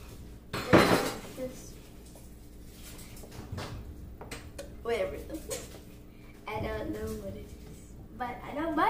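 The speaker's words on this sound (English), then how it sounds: "Keep stirring." Butter being stirred in a pot for a seafood boil brings scraping and clinking of a utensil against metal, a loud clank near the start, with a person talking over the stirring.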